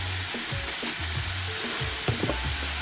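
Garlic, both fresh and powdered, sizzling in hot bacon fat with salt, pepper and Montreal steak seasoning while being stirred, a steady crackle of frying with soft scraping strokes, close and alone.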